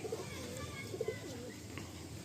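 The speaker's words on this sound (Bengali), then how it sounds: "অনেকে এই পায়রা খুব পছন্দ করেন" Andhra pigeons coo softly in a few short, low, rounded bursts, close by, over a steady background hum.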